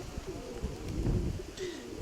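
Soft cooing of a domestic pigeon at a loft or release point, a low murmuring coo rising and falling over about two seconds amid faint background noise and a brief higher chirp near the end.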